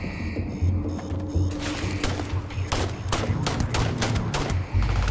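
A semi-automatic gun fires in Starfield, a rapid string of sharp close shots, some in quick clusters and some spaced apart, over continuous low game rumble.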